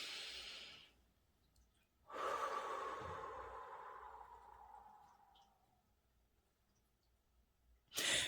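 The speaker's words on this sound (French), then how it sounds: "je vais prendre une bonne inspiration avec mon nez" Deep chest breathing through the nose with the mouth closed comes in long, close, fairly quiet breaths separated by pauses, with no talk.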